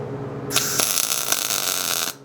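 Welder tacking a metal plate onto a display stand for plant stakes: a close, loud, hissing crackle lasting about a second and a half, with no talking.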